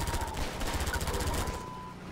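Rapid automatic gunfire in the video game Half-Life 2, a dense stream of loud repeated shots filling most of the clip before easing off near the end, with a hovercraft-mounted machine gun setting.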